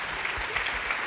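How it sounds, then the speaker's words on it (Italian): An audience applauds a performer as he is welcomed on stage, steady dense clapping from a crowd with no voices over it. "Lo accogliamo con un applauso"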